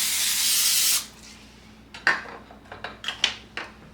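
Cooking spray hisses into a plain loaf pan for zucchini bread in one steady, close burst of about a second, followed by light metallic clinks and taps of the pan and utensils.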